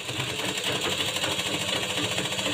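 An electric sewing machine runs steadily while stitching a blouse, producing a fast, even mechanical whir and needle patter, close and moderately quiet, with no pauses.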